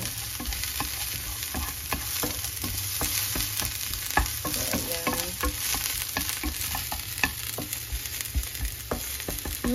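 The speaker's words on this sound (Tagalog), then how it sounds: "Gigisa na natin tong sibuyas bawang." Onion and garlic sautéing in a little oil in a pan for pinakbet, with a steady close sizzle and frying crackle broken by repeated sharp clinks and scrapes of stirring.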